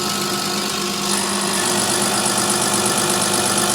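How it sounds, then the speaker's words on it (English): A 1989 Dodge Ram's 5.9L Cummins diesel, fitted with a Bosch VE pump, runs at high idle, a close, steady clatter and drone that rises slightly about a second in and then holds level, with no talk. "We're locked in high idle"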